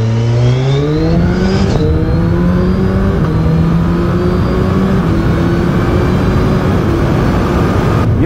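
A Suzuki Hayabusa motorcycle accelerates hard in sport quickshifter mode, its engine note climbing through several rising sweeps broken by quick upshifts, loud and close with no talk.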